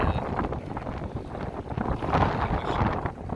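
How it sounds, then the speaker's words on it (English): Strong wind roaring and buffeting across the microphone in steady low gusts, a continuous rough rumble with no speech. "It's getting pretty windy out here."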